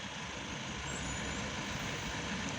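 Congested traffic on the Perumanallur–Coimbatore national highway in the morning, a continuous dense roar of trucks, buses and other vehicles, steady and fairly loud throughout.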